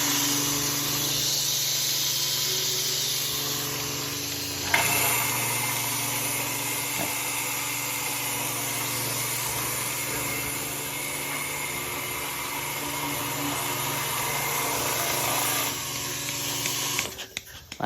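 A Russian-made oil-type milking machine motor hums steadily at close range, a constant mechanical whine with a brief shift in tone partway through before cutting off near the end.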